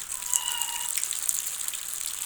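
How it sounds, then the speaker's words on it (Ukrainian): Steady rain patters and hisses outdoors in Ukraine, a dense wash of drops with faint birdlike chirps over it, no voices. "У нас дуже погана погода, паде дощ, зробилося болото."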